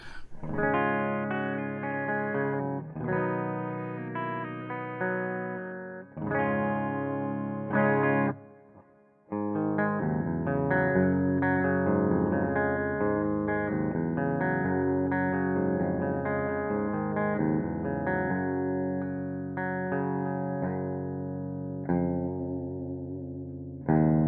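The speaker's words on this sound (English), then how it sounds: "This is a preset they have for that one called the Hot Clean" A clean, bright electric guitar plays chords and picked notes with light shimmer and echo, pausing briefly before continuing, with no voices; a Carvin V3M amp model's Hot Clean preset in an amp simulator.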